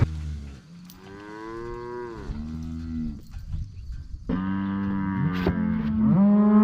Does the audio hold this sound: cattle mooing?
yes